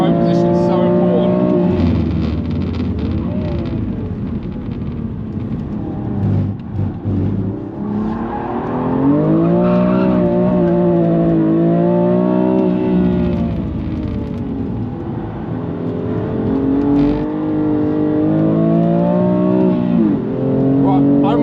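A manual BMW M2 Competition lapping a race track, its engine loud and continuous throughout with rising and falling revs as it shifts through gears; a voice talks over parts of it.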